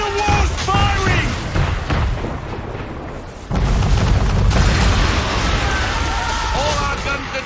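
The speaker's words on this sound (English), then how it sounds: "Man of war's firing!" Man-of-war warship firing its cannons in Assassin's Creed 3, with heavy booming blasts and a big renewed barrage midway, mixed with crew voices and game sound.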